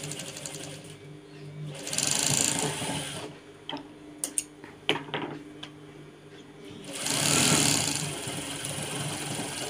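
Sewing machine stitching a gents' shirt collar, running in two loud bursts separated by a quieter stretch of faint clicks and handling noises.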